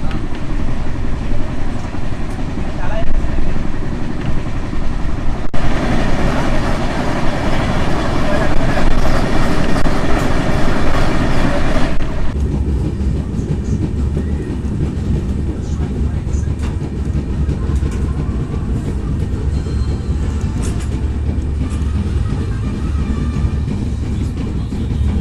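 Chennai–Kanniyakumari Express passenger train running on a long-distance line, a steady loud rumble with rhythmic clickety-clack of wheels over rail joints throughout, the tone shifting midway as the coach passes a different track section.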